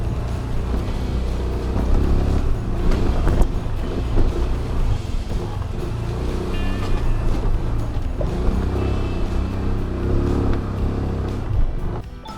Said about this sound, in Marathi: चालायच्या रस्त्यावर गाडी घेऊन जाणार